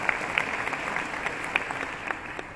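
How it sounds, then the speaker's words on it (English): Audience applause at an American University commencement address, a steady broad wash of many hands clapping with scattered sharper claps standing out, moderately loud and continuous. "Please give me a round of applause."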